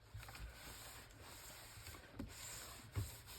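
Folded card being rubbed down firmly along its crease for a travel-themed mini folio, a soft dry scraping that continues steadily with a couple of slightly stronger strokes near the end.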